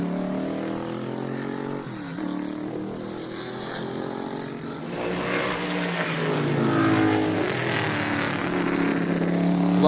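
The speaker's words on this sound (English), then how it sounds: "watch and listen to these cars thunder on this track" A 1973 Corvette and other race cars drive on a racetrack at a speed festival, their engines a continuous rumbling drone that rises and swells in pitch as the cars pass at a moderate distance.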